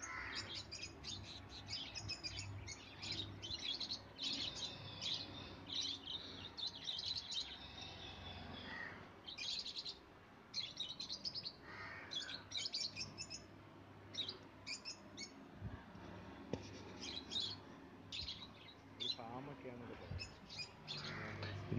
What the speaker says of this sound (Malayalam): ഇത് സാധാ ലവ് ബേഡ്സ് ആണ്.